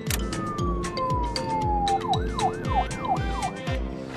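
A cartoonish police siren wails with a long falling tone, then a rapid rising-and-falling whoop, over a steady rhythmic mechanical chugging.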